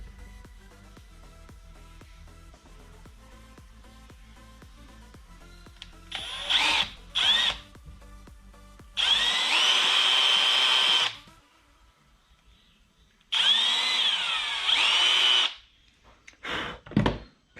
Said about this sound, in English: Okay, and then we will drill